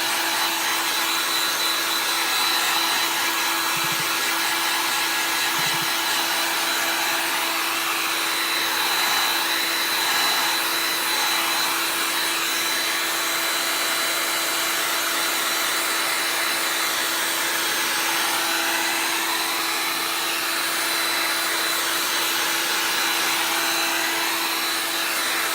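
Handheld hair dryer blowing on a paint-coated carved Halloween pumpkin, a steady close broadband whoosh with a faint whine that runs unbroken and alone for the whole stretch.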